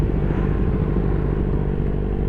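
A Honda PCX160 motor scooter's engine runs in a steady, loud, close drone with no clear rise or fall, recorded on a mountain ride in Infanta, Quezon.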